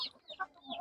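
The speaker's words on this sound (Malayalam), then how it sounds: "ഇതാട്ടോ നമ്മളെ വര ഉള്ള ആ ഒരു കോഴിക്കുഞ്ഞ്." Chicken chicks at a poultry farm, recovered from illness and lively, give a few short, faint peeping chirps spread through a quiet moment, with no talking.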